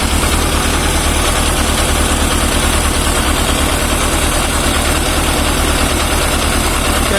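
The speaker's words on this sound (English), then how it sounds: "Next day, and we run the motorcycle." A restored Yamaha FZR 1000 EXUP motorcycle engine runs steadily after a full rebuild, a loud, continuous, even idle with a low, rapid pulsing and no break or voices.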